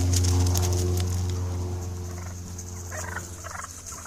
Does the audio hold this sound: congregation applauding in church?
no